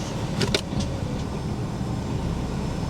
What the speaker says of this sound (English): Man, she sounds great, but do we really need a V6 Cougar again on the channel?